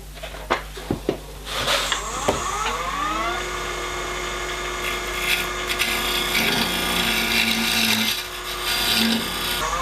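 Carbide cutter held on its side at about 45 degrees, turning a dark birch bowl on a wood lathe, a continuous scraping rasp over a steady motor hum, with a few sharp taps at the start.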